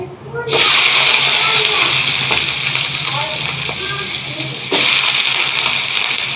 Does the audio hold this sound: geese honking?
no